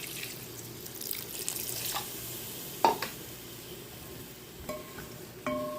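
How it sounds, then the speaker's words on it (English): Water is poured into a pot of curry chicken with string beans cooking on the stove, giving a running, splashing pour over a soft sizzle, with a few clinks near the end. "So now I will just add a small amount of water for some gravy or sauce"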